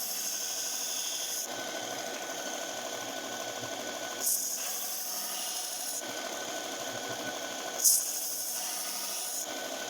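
A needlepoint-tipped knife is drawn across a sharpener in even, scraping strokes, a steady gritty hiss broken by a couple of brief louder rasps, close and alone.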